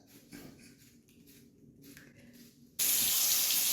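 Water gushing from a bathroom tap to wet the face for shaving, starting abruptly near the end and running loud and steady after a few quiet rustling moments.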